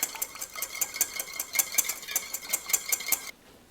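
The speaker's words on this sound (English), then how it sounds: "Mix it all together." Rapid rhythmic clinking of a utensil stirring green bean salad ingredients in a dish, about a dozen quick close strokes before stopping abruptly.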